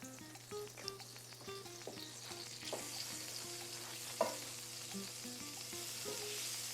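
Butter sizzles and crackles quietly in a hot pan, a soft continuous frying hiss with small pops and a low background hum.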